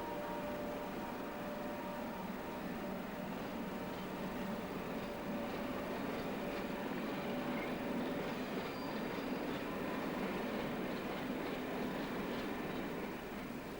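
Class 50 diesel locomotive 50019 Ramillies, in rail blue livery, runs with its train, heard as a steady, fairly faint rumble and hum of engine and wheels without a break and with no talking.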